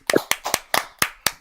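Six sharp hand claps ring out close and dry in a steady, evenly spaced rhythm, with no talking over them.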